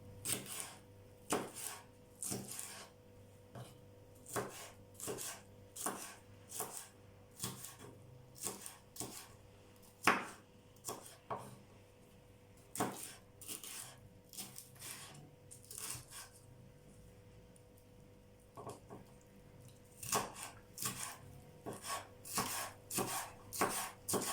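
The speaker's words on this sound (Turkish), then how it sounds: "O yüzden bu dolmalık biberden doğrayacağım içerisine." A knife chops bell peppers on a cutting board in quick, irregular bursts of crisp taps, close by, with brief pauses between runs.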